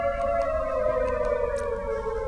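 Air raid sirens wailing over Jerusalem during Iranian missile attacks, a sustained tonal howl with layered harmonics that slowly falls in pitch, heard continuously and fairly loud against a low background rumble.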